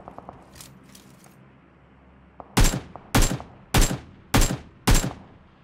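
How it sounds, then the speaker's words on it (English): Gunfire in a video game: after a quiet stretch with faint background sounds, five loud, sharp shots ring out at a fairly even rhythm, each with a short decaying tail. "stop shooting"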